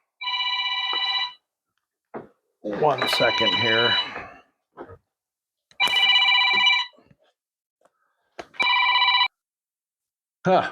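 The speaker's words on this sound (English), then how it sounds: "and there goes my phone." A mobile phone rings indoors with a repeated electronic tone in separate bursts, alternating with a person speaking nearby.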